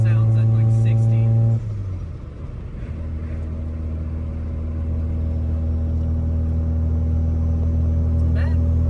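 Mazda RX-7 with a newly fitted exhaust: a steady engine drone and rumble while driving, dropping from a higher pitch to a lower cruising note, loud and continuous under light cabin noise.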